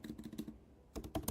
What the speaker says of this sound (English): So if I type in